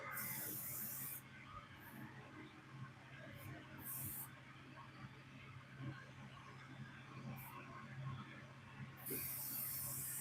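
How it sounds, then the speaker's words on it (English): Bursts of an airbrush spraying paint, not spraying cleanly, hiss on and off, several short blasts and longer sprays over a steady low hum, close and fairly loud. "This brush isn't spraying really well."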